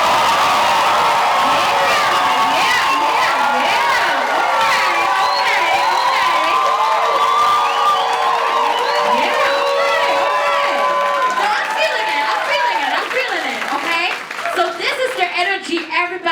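Dense crowd noise at a trans pride ball: many voices shout and cheer loudly with scattered clapping throughout, and the cheering thins toward the end.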